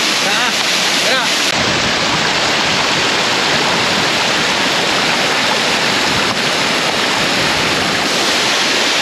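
A waterfall used as a bathing spot near Pos Beswok rushes in a loud, steady, unbroken roar of white water that fills the whole stretch without pause.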